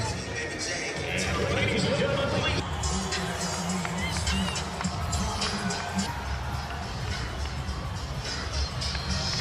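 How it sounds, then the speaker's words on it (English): A stadium crowd roars and cheers as Inter Miami and Atlanta United players take the pitch, a loud, continuous wall of voices and whistles with a broadcaster talking over it. "Well, the crowd just erupted for this man right here, Lionel."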